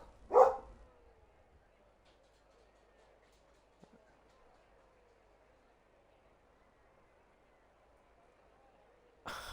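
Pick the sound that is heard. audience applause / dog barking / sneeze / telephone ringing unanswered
dog barking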